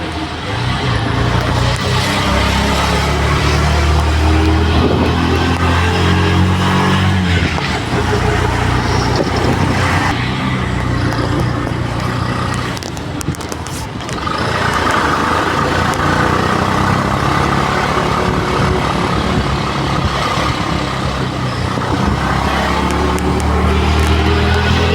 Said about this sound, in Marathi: मला माझ्या पप्पांना आता आम्ही आमच्या रिक्षामध्ये